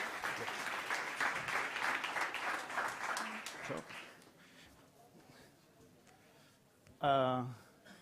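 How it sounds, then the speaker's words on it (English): Audience applause at a startup competition event fills the opening seconds with dense, steady clapping that fades away, followed by a quiet stretch and a short burst of a voice at the end. "Big applause."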